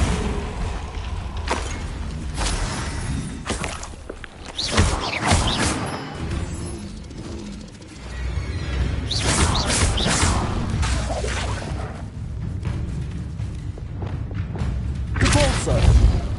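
Confringo blasting spell in Hogwarts Legacy: repeated thuds, booms and crashing bursts with whooshes, loud and close, spread across a busy combat soundscape.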